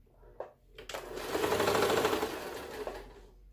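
Sewing machine stitching a fabric Easter bunny decoration, a few short starts followed by a steady rapid needle run lasting about two seconds, close and fairly loud, then slowing to a stop.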